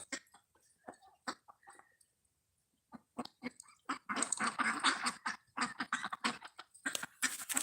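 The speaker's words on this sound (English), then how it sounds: "I'll show you the geese. They're always so regal." Geese and ducks honk and quack in short irregular bursts, sparse at first, then a dense noisy chorus of many birds calling close by, with snow on the ground.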